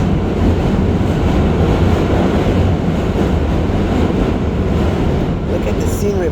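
A New York subway train rumbles across the Manhattan Bridge, a loud, steady rolling roar that fills the whole stretch, with a faint squeal near the end and voices talking over it.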